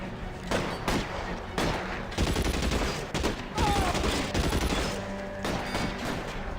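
Rapid bursts of gunfire ring out in an L.A. Noire shootout, repeated volleys of shots cracking close and loud across the whole stretch with only brief gaps between bursts.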